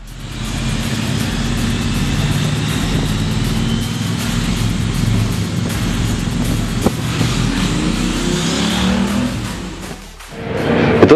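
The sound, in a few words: motorcycle engine while riding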